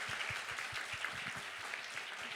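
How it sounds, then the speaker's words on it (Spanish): Audience applause at a talk on inspirations for imagining a children's picture book, steady dense clapping at moderate level throughout, with no voices over it. "Reiteramos el aplauso."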